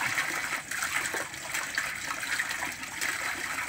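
Hikari HK-P103 12-watt aquarium and pond pump sending up a water jet, a steady rushing, splashing spray close by with constant trickling and no talk.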